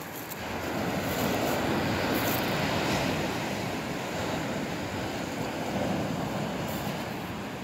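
Winter sea waves wash onto Massandra beach in Yalta, Crimea, a steady broadband surf roar with wind noise, continuous and fairly loud throughout, no voices.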